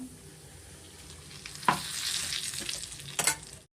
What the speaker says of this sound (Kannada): ಅದನ್ನೆಲ್ಲ ಸೇರಿಸ್ಕೊಂಡು ಸ್ವಲ್ಪ ಎಣ್ಣೆನಲ್ಲಿ ನಾವು ಫ್ರೈ ಮಾಡ್ಕೊಬೇಕಾಗುತ್ತೆ